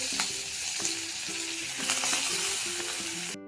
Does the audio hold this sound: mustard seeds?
yes